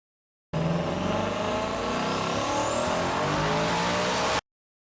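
A 1000 hp twin-turbo S650 Mustang GT revving hard on a dyno, its engine holding a loud, steady roar while the pitch climbs smoothly through the pull, close up and alone, then cutting off abruptly.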